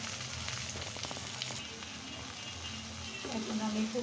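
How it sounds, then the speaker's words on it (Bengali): Onion, garlic, green and dried chillies, turmeric and salt fry in a pan for a mashed vorta, a steady close sizzle with crackling that grows slightly louder, while a voice talks over it. "এখন এটা আমি খুব সুন্দর করে একদম লাল লাল করে ভেজে নেব"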